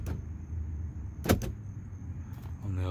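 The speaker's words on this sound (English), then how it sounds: "Power door locks" A quick mechanical clunk of the power door locks actuating on a 1987 Chrysler LeBaron Turbo Coupe, a sharp double thump close by, followed by faint shuffling and a brief whir.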